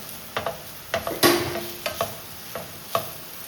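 Chopped tomatoes drop into a hot pan for egg rice, with a brief burst of sizzle followed by a handful of scattered spoon scrapes and taps over a faint frying hiss, close and without speech.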